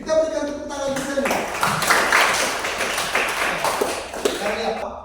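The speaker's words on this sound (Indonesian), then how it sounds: "kita berikan tepuk tangan untuk Selby" A group claps for a speaker at a church learning session: after a few spoken words, a dense burst of clapping builds and holds for a few seconds before tapering off, with voices underneath.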